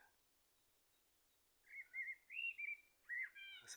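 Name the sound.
blackbird singing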